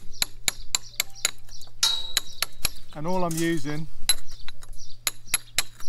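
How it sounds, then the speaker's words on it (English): A brick hammer strikes a chisel to chip a stone in an off-grid tiny home build, giving a steady run of sharp, ringing metallic clinks, close and loud, with someone briefly talking midway. "I'm gonna chip this one out a little bit here."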